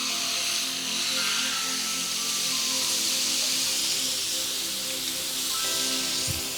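Surmai fish frying in hot butter on a flat tawa, giving off a continuous, even hiss and sizzle that stays steady throughout with no talking.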